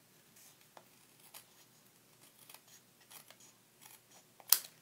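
Scissors trim the paper of a thank-you card, making soft, scattered snips and rustles close by and ending in one sharper, louder cut, with no talking.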